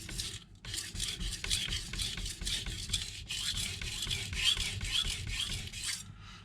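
A knife blade is drawn back and forth across a coarse Naniwa 220-grit whetstone, close rhythmic rasping strokes repeating steadily with short pauses.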